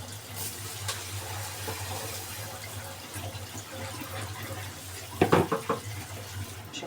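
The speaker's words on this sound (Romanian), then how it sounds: "Acum punem apă." Water pours steadily into a pot for bouillon soup with a low continuous rush and a hum underneath, ending in a few louder splashing gulps.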